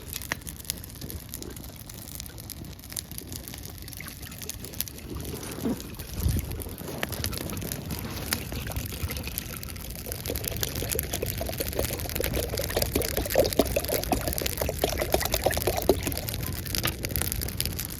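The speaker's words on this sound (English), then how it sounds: "It's just raining ass right now." Heavy rain pours down outdoors in the Alaska wilderness at a bushcraft camp, a steady dense hiss with scattered pattering close by that grows slightly louder toward the end, with no voices.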